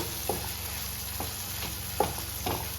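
Dried red chilies frying in oil while making peanut chutney, a steady close sizzle with a few soft scrapes of stirring, no voices.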